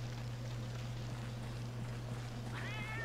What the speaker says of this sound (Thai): หยุดนะแมวขโมย